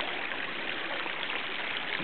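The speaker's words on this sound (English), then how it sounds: "gurgling inside the tunnel" Water gurgles and rushes steadily inside a tunnel at Kidney Pools, a dense, continuous wash of flowing water with no pauses.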